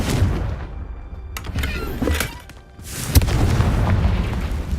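A Confringo spell blast in Hogwarts Legacy booms out in loud bursts, a rumbling explosive roar with a sharp crack near the end, close and forceful with no talk over it.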